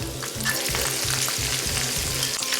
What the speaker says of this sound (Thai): ระหว่างทอดเราก็คนด้วยนะคะ เพื่อให้เขากรอบสม่ำเสมอกันค่ะ